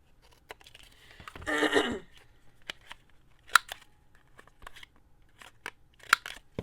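Scissors trimming blue paper for a mini hinge journal: a run of close, quiet, crisp snips and clicks spaced irregularly, with a short crunchy rustle of paper near the start.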